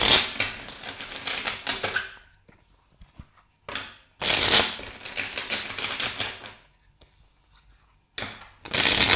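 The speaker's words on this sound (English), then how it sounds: "Let's shuffle the deck three more times for this person." A tarot card deck being shuffled in repeated bursts, crisp riffling and flapping of cards close up, separated by short quiet pauses, with faint speech between the shuffles.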